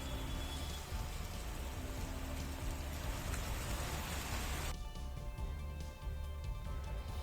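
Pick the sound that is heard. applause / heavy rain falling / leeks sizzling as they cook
heavy rain falling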